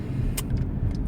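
Car interior driving noise, a low steady rumble of the cabin and road, with brief soft clicks and rustles near the driver riding on top.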